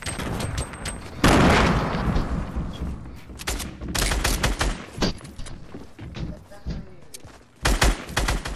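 Game grenades in Fortnite go off amid a busy firefight, a loud burst near 1.2 seconds followed by repeated blasts and gunfire cracks, with some voice chatter in the mix.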